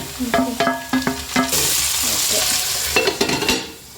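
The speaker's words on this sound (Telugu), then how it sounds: "ఆనియన్స్ ఆల్మోస్ట్ ఫ్రై అయిపోయి, ఓకే, ఇప్పుడు టమోటా కూడా యాడ్ చేసుకోవాలి." Onions frying in a pan with tomato being added, a steady bright sizzle broken by sharp stirring clinks and scrapes of a utensil, growing louder and denser midway, close and without voices.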